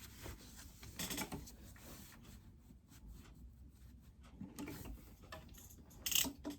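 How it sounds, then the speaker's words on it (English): A domestic sewing machine stitches down a seam on a zip pouch, a steady quiet mechanical whir with faint clicks at close range, a few louder knocks and rubs as the fabric is handled. "But I'm going to stitch this down now."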